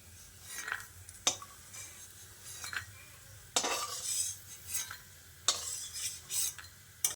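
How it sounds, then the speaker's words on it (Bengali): Fried lentil dumplings (bori) stirred in hot oil in a kadai and lifted out, with close metallic scrapes and clinks of a spatula at irregular intervals over a faint sizzle, no talk. "বড়িগুলোকে এবার তুলে নিচ্ছি।"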